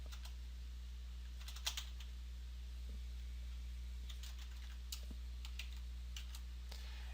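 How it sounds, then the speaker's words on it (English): Keystrokes on a computer keyboard while entering HTML code, a sparse, uneven run of quiet clicks with a few sharper taps, set against a steady low hum with no talking. "I'm just going to simply type in div id equals accordion."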